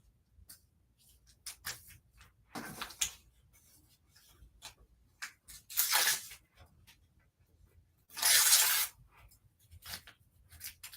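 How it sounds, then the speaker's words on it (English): Foundation paper torn off a sewn quilt block in quick ripping bursts, several short tears and two longer louder rips spaced out between quiet handling and rustling, close and alone. "This is the most tedious part, I guess, tearing off the paper."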